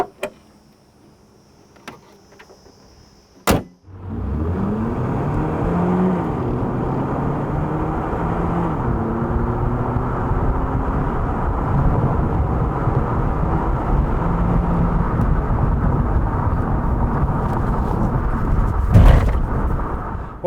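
A Hyundai Ioniq Hybrid with a six-speed dual-clutch gearbox accelerates hard to 62 mph. A quiet cabin erupts into loud, sustained engine and road roar, its droning tones climbing and stepping through gear changes for about sixteen seconds.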